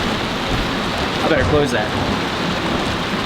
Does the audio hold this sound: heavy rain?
yes